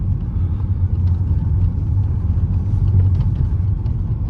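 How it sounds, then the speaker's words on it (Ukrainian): Audi A4 2.0 TFSI from 2014 pulling away and driving, a steady low engine and road rumble heard from inside the car, continuous and fairly loud with no talk. "Тут відразу відчутно, як машина просто вона починає їхати."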